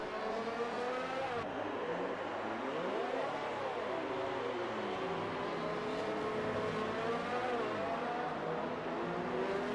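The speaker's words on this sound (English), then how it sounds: "I heard engine revs." Racing car engines rev and whine in a sim racing game at the Mexican Grand Prix, several sweeping rises and falls in pitch layered over a continuous, fairly quiet engine drone.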